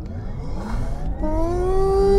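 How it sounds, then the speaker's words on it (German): Porsche Taycan 4S electric car under launch control, its synthetic drive sound rising into a steadily climbing whine as it accelerates hard, loud and close with road rumble beneath, no talking. "ich drücke die Bremse, geht auch in dem Elektroauto, drückt das Gas durch, dann steht hier Launch Control aktiv"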